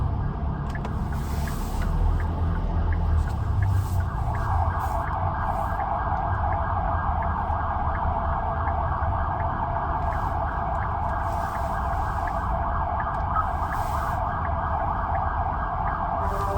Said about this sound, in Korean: 뒤에 앰뷸런스 있다 앰뷸런스